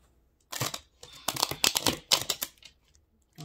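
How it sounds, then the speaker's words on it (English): Tarot cards being shuffled in a clumsy, failed shuffle, a burst of rapid riffling and flicking card clatter lasting about two seconds, close and fairly loud, with no talking. "oh, that shuffle didn't go well at all."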